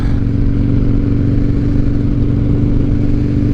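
A 2007 Harley Davidson Night Train rides along with a loud, close, steady engine rumble and a rapid low throb that holds throughout with no talk.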